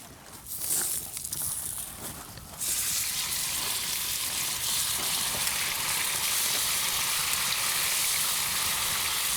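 Oil sizzles and crackles loudly as lake trout hits the pan over a fire, a sudden burst that settles into steady continuous frying.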